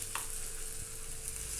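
Paniyaram batter sizzles in a hot mold with a soft, steady frying hiss, close but quiet, with no voices.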